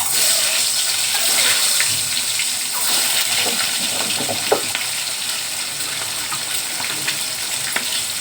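Eggs frying in a pan for a kochu and egg curry, a loud continuous sizzle and crackle with a few sharp pops, no talking.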